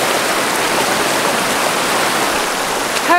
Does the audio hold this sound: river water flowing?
yes